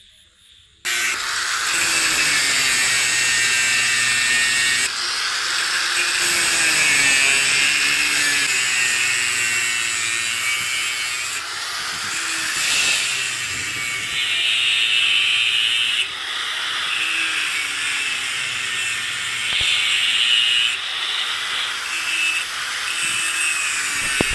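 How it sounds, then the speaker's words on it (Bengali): A grinding machine cuts a metal washer for an auto rickshaw bearing, giving a continuous high-pitched whine with shifting tone as the disc bites into the metal, loud and unbroken after a brief quiet start. "সেই আউটের চান্দিটা আপনারা খুব সুন্দর করে গেনিং মেশিন দিয়ে কেটে নেবেন"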